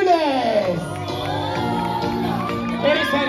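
Hotel entertainment show audience in Antalya cheering, whooping and shouting over steady crowd noise, continuous and fairly loud throughout, with an amplified voice over it.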